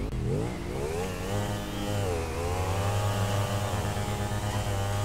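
An XT motorcycle in GTA 5 roleplay revs hard during a street wheelie contest. The engine holds a loud, steady drone as its pitch rises and dips with the throttle, and there is no talk over it.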